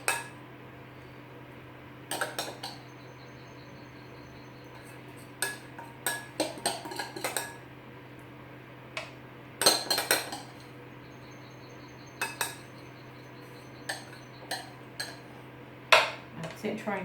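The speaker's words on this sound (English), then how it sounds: "then you spoon your oats in" Spoon scrapes and clinks against a dish as baking oats are spooned in, a scattered series of sharp metallic taps and knocks over a steady background hum.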